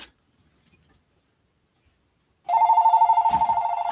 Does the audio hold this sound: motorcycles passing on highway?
no